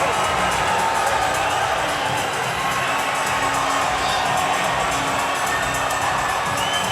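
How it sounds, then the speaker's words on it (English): Loud, steady crowd roar with cheers and whoops fills the arena after a knockout ending a pro-debut fight at Bellator 178, sustained throughout with no pause. "they came out cheering for him"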